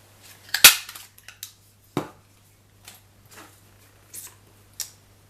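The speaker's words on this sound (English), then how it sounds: "with the small circle punch, which is the 3/4, just cut that out" A small 3/4 inch circle punch cuts through paper for a black flower patch gift bag, giving one sharp, loud snap followed by several softer clicks and taps as the punched piece is handled, close by with no speech.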